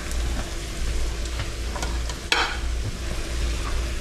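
Fried rice frying in a pan under steady stirring, a continuous low sizzle with soft scraping and one louder clattering scrape partway through, close by.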